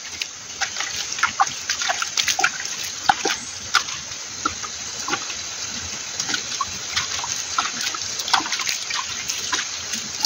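Liquid is poured from above onto a goat manure mixture, a soft continuous trickle and splatter with scattered drips, moderately quiet and steady throughout.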